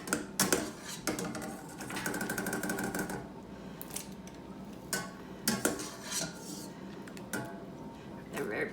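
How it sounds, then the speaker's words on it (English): Blanched green beans are lifted from hot water with a spider strainer and dropped into an ice bath, producing a run of light metallic clinks and splashy rattles, moderately close, with no one talking. "I'm going to get my beans out of the water. If you don't have a spider, no big deal. Slotted spoon, tongs if you're really patient. I'm going to drop them in the ice bath."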